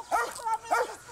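A police K-9 dog during a suspect search in Indianapolis gives two short yipping barks, close and fairly loud, with no talk.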